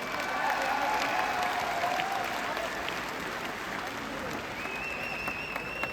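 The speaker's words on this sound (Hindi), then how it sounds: "ताली बनती है" Audience applause at a lifestyle business event in New Delhi, a steady wash of clapping from a seated crowd that holds at an even level for several seconds with faint overlapping voices.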